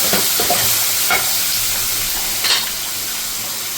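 Soya chunks frying with tomato sauce are stirred in a pan for butter soya chilli fry, a dense close sizzle with a few scraping spoon strokes, no talking.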